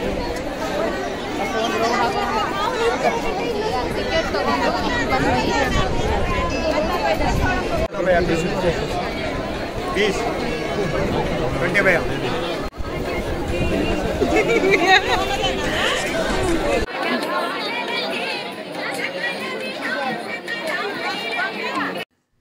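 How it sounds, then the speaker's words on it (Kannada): A dense crowd of pilgrims chatters at Chamundeshwari temple in Mysore, a steady babble of many voices close around, continuous throughout and thinning slightly near the end. "ಕ್ರೌಡ್"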